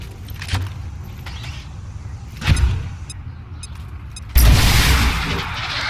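Frag grenade explosion in the video game XCOM 2, a sudden loud blast near the end followed by a sustained rumbling roar, with earlier shorter thuds and soft electronic game sounds before it.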